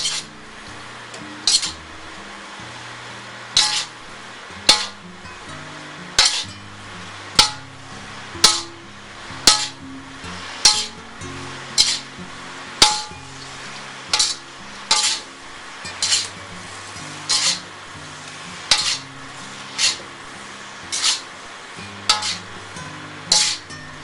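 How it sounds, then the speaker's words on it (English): Singapore rice noodles are stir fried in a pan, with regular sharp clacks of a utensil striking the pan over a low background sizzle, heard alone with no talk. "Now we're going to stir fry it up together"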